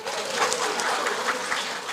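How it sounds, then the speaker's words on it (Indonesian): An audience at a Christmas church sermon gives a short burst of applause, a dense, steady patter of clapping lasting about two seconds. "Tepuk tangan dulu buat suami"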